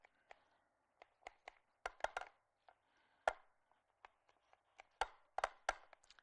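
Knife cutting through layers of phyllo dough in a home kitchen, heard as a series of crisp, irregular chops and taps on a board, close and moderately loud, with no talking.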